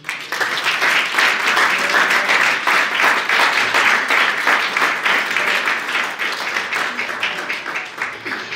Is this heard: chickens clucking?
no